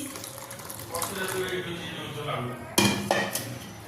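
Strained wood apple pulp is stirred with sugar and boiled milk in a bowl, with clinking utensil scrapes and a sharp knock partway through, while a voice talks over it.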